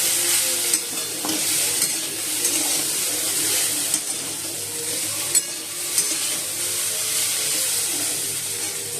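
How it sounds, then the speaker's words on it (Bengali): Potatoes fry in a pan in a home kitchen, a steady loud sizzle running through with the scrape and clatter of stirring, a few sharp knocks of the utensil against the pan, and no talking. "এই বন্ধুরা এখন আলু ভাজা করছি"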